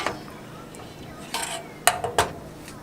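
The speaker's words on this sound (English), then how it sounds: "Get a nice stir going so that your rice don't stick to the bottom of your pot." Metal spoon scraping and clinking inside a pot while rice cooks in coconut milk, a few sharp knocks and scrapes near the end against a quiet background.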